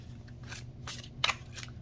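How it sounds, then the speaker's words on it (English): Tarot cards from a Pre-Raphaelite deck shuffled overhand and riffled, giving several short papery bursts of flicking with one sharper riffle crackle, close and fairly quiet over low room hum. "overhand and riffle. Good shuffle."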